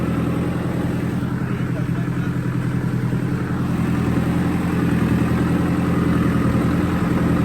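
A Digitrac tractor engine runs at a steady, loud, low rumble at about 1200 rpm while puddling a flooded paddy field in Punjab, its throb continuous and close.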